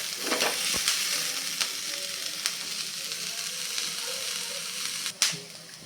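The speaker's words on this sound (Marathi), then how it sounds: "एक साधारण अजून दोन ते तीन मिनटे छानपैकी परतून घेऊया" A chutney mixture with roasted gram dal sautés in a pan over medium heat, producing a steady close sizzle punctuated by occasional sharp clicks of a spoon against the pan.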